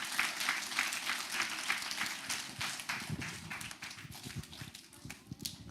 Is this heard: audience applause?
yes